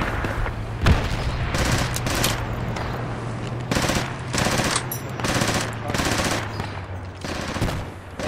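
Bursts of automatic gunfire from the military shooter Project Reality, several rapid volleys in an uneven rhythm with pauses between them over a steady low hum, loud and close, with faint voices in the background.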